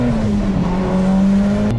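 A 600+ hp Mitsubishi Evo X engine drones steadily at night under acceleration, loud and close from inside the car with a sustained tone for the whole span, no talking.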